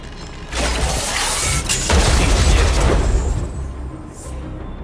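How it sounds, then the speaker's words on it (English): A big explosion in the video game Honkai: Star Rail: a loud, broad roaring blast with rumbling low end and crackling debris, swelling over a few seconds, then tailing into lingering noise. "We wiped them all out in a single explosion!"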